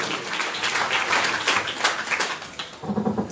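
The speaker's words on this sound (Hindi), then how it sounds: "इनके लिए जोरदार तालियां" Loud, dense applause from a gathering at a Bhagwat katha devotional event, a continuous burst of many hands clapping close by, easing slightly toward the end.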